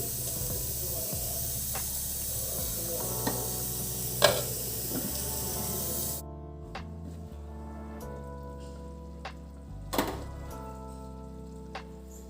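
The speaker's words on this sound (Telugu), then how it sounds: "ఈ విధంగా గిన్నెను కలుపుకుంటూ ముక్కలు కలిసే విధంగా కలుపుకోవాలి" Fish curry with raw tamarind cooking in a pot that is swirled by hand to mix the fish pieces gives a steady close hiss and sizzle, loud for the first half then quieter, with a few soft knocks and no talk.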